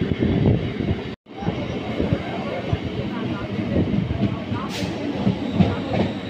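Indian Railways train with a WAG-12 electric locomotive running between Pandua and Barddhaman Junction, a steady loud rumble of wheels on rails with faint clickety-clack, close and continuous, briefly cutting out for a moment near the start.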